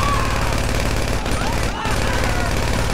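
Rapid automatic gunfire in GTA 5, dense continuous bursts loud and close, with someone talking over it.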